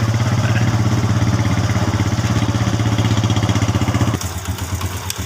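A motorcycle engine idles close by with a steady rhythmic putter, then cuts off abruptly near the end, leaving quieter background noise.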